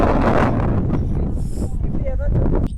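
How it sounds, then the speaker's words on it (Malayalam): Strong, cold wind sweeps across the Kodanad hilltop viewpoint near Kotagiri, a continuous rumbling roar of gusts hitting the microphone, with faint voices in the background. "അയ്യോ ഭയങ്കര തണുപ്പും കാറ്റും"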